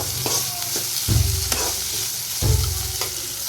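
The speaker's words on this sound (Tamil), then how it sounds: "இது கொஞ்சம் நல்லா வதங்கி வரட்டும்." Capsicum, onion, green chili, chana dal and urad dal sizzle as they are sautéed in a pan, with a loud steady fry and two stronger bursts as the spatula turns them.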